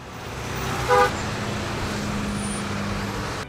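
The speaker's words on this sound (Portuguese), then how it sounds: "onde o trânsito é bem barulhento." Steady roar of busy city traffic in Hanoi with engines rumbling, and a short car horn toot rising briefly above the din near the start.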